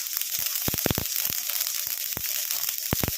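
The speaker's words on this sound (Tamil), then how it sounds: "சூப்பராக ரெண்டும் நல்லா பொரிஞ்சு வருது பாருங்க" Mustard seeds frying in a pan over low flame, popping and spluttering in sharp irregular crackles over a constant sizzle, close and fairly loud.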